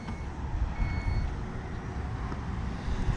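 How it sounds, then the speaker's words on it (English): A thin electronic beep sounds over a low mechanical hum as a 2019 Dodge Durango SUV's rear liftgate powers open. "it beeps when it's opening up"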